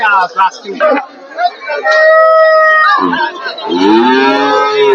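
Cows mooing at a busy rural cattle market in Kushtia, where cows with calves are for sale: several long, loud, close moos overlap in quick succession, with faint crowd chatter in the background.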